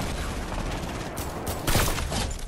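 Dense Fortnite gunfire heard as a rapid, loud fusillade of overlapping shots, closing with a sharp, brighter burst near the end.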